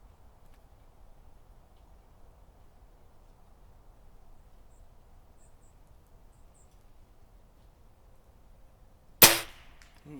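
A single sharp crack from an HW97K air rifle fired at a tiny target outdoors rings out near the end, after a long stretch of quiet ambient background.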